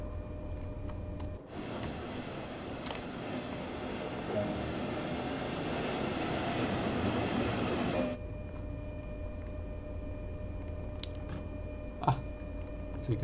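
Passenger train in Train Sim World 2 rolling slowly toward a signal, a steady rumbling rail noise that swells for several seconds and then settles into a quieter cab hum.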